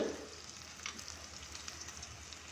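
Curry leaves and whole spices like cinnamon and cloves sautéing in a pan for Gounder-style chicken kuzhambu, a faint, steady sizzle with light frying crackle, quiet and continuous.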